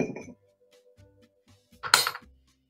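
Cut ice is stirred in a stirring cup for a cocktail, with a soft clink at the start and then a bright burst of rattling, clinking ice near the end, close and fairly faint amid quiet.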